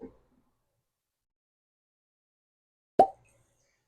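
A synthetic cork is pulled from a bottle of Frey Ranch bourbon, giving a single sharp close pop after near silence, preceded by a faint small knock.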